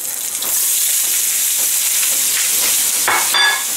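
Sliced onion dropped into hot olive oil in a pan, giving a loud close sizzle that jumps up at once and stays steady, with a few soft stirring scrapes and a short clink near the end.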